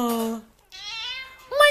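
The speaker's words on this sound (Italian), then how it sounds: "guardate adesso miagola, c'è anche lei" A domestic cat gives two or three loud, close meows, one drawn out and one rising at the end, separated by brief pauses indoors.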